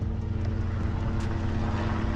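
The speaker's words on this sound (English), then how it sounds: "Helicopter, you're ruining my shot." Helicopter flying overhead outdoors, a steady low droning rotor hum that holds constant and moderately loud throughout.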